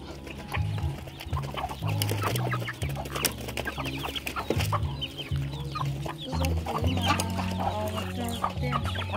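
A rooster and a group of chickens cluck continuously and close by, with overlapping calls and scattered squawks against a busy farmyard background.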